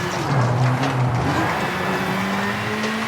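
Rally car engine in the V-Rally 4 racing game, revving hard with pitch shifts as it moves between second and third gear, loud and continuous, close to the listener with no talk.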